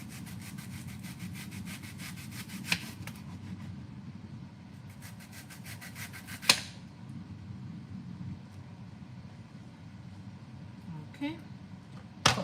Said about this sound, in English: get a couple slices of this onion